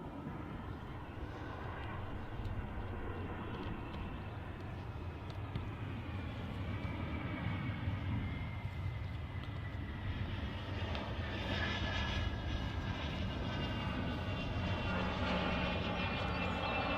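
A fixed-wing airliner touches down on the runway at Manchester Airport, its engine roar steady and fairly close, with a rising whine of reverse thrust building toward the end, no voices over it.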